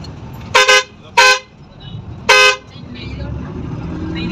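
Car horns honk in heavy traffic on a road trip from Musandam toward Sharjah, with three loud, close blasts, two short and one longer. A steady engine and road rumble sits underneath.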